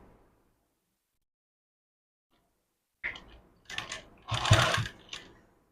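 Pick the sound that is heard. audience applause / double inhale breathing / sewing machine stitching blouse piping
sewing machine stitching blouse piping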